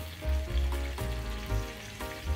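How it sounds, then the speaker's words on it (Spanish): Sliced onion and garlic fry in a pan with a steady, close sizzle and crackle, running continuously with small rises and dips and no voice over it. "En cuanto el ajo comience a cambiar de color, la agregamos a la sartén."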